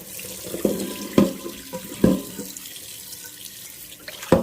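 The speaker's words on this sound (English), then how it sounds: "And I am going to run some super cold water on it, as cold as I can get it" Cold water from a kitchen tap pouring over drained pasta in a colander, a steady hissing rush broken by a few louder splashes and clatters, close by with no talking.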